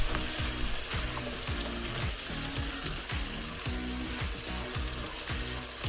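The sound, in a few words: carrots frying and being stirred with onions, peppers, garlic, ginger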